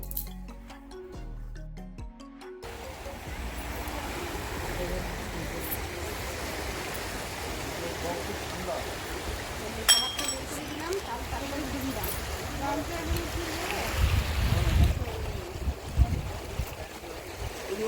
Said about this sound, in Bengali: প্রচণ্ড স্রোত মানে দেখেও যেরকমটা লাগছে শব্দটা ঠিক সেরমই